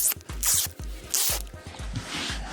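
Adhesive backing is peeled off a homemade Kydex keel guard for a kayak, giving a series of close, quiet crackling rips in quick succession with no talking.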